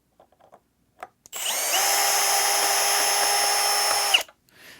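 A power drill backs out countersunk screws during a DIY solar generator teardown, with a few light taps and then one steady, high, close whirring run of about three seconds that stops abruptly.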